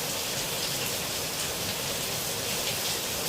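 Rain falling outside, a constant dense hiss of drops on surfaces that holds evenly for several seconds with no voices over it.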